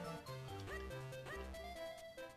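A dog barks several times in quick succession, clear and up close, with a synthetic, game-like quality.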